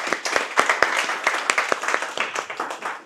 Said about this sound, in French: Applaudis, donnez-lui du courage.